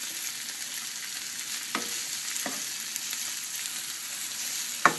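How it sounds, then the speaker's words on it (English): Onions sautéing over high heat in a pan give a steady broadband sizzle, with a few brief scraping stirs near the start and one sharper clack at the end; no one speaks. "And again, you're sauteing at high heat."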